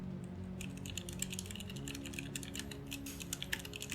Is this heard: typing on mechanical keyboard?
yes